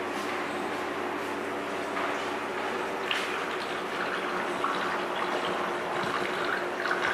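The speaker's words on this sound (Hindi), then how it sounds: "अब इसके अंदर हम 8 लीटर पानी डालेंगे" Water poured from a one-litre jug into an espresso machine's tank, a steady continuous splashing pour, close and moderately loud, without voices.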